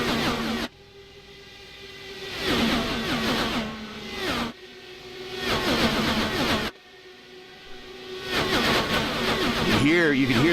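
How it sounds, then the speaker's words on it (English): IndyCar Dallara DW12 engines in the iRacing sim roar and rev at Indianapolis, with loud sustained tones rising and dropping between camera cuts while a commentator talks over them. "You can hear the change in engine tone on these camera shots"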